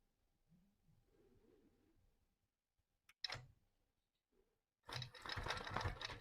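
A longarm quilting sewing machine makes a few quiet needle clicks and a brief burst of stitching, then a louder stretch of fast, close mechanical stitching, with soft faint sounds between.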